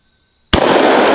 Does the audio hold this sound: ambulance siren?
no